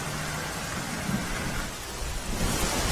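Heavy downpour with thunder over Palanpur, Banaskantha, a steady dense roar of rain on surfaces with low thunder rumbling underneath throughout, no voices.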